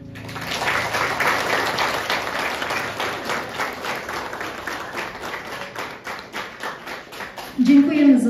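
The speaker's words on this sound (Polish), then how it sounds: "Wielkie brawa." An audience applauds after a song performance at a concert, a dense, even patter of many hands clapping that carries on for several seconds before a brief voice cuts in at the end.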